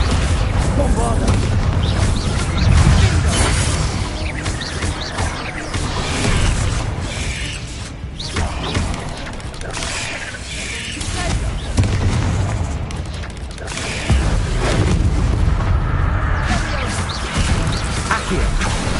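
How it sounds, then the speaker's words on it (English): Bombarda blasting spell explosions in the Hogwarts Legacy video game, a dense run of loud booming blasts and crashes rolling over a continuous busy battle din, with a voice speaking at times underneath. "Bombarda."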